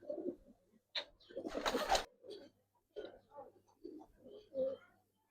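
Low, soft coos of a Giribaz pigeon repeating in short throaty phrases, close by, with a brief rustling burst in the middle.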